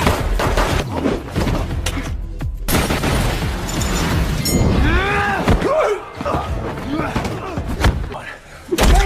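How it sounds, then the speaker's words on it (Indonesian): Glass shatters loudly as someone leaps through a window in a dramatic movie action scene, the crash layered with thuds, booms and other dense effects and music, with voices over the top. "seseorang masuk dengan melompat, memecahkan kaca dan langsung mengambil perangkat itu"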